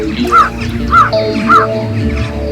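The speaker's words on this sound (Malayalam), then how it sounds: "കാക്ക ഉടനെ ഉറക്കെ കരഞ്ഞു" A crow caws loudly three times in an even rhythm, close and clear, over a faint background.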